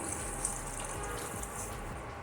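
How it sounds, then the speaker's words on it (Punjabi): Water pours steadily into a cooking pan of cooked peas and potatoes in a continuous, soft splashing stream, fairly quiet and unbroken, with no voices. "ਅਸੀਂ ਪਾਣੀ ਪਾ ਦੇਵਾਂਗੇ ਕਿਉਂਕਿ ਮਟਰ ਤੇ ਪਹਿਲਾਂ ਹੀ ਪੱਕੇ ਸੀ"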